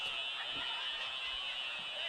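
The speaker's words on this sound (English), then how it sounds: "the fire alarms are going off right now here at Grayson County" A fire alarm sounds in a high school gymnasium at Grayson County during a basketball game against Whitesville Trinity, a steady loud electronic tone held throughout under crowd noise.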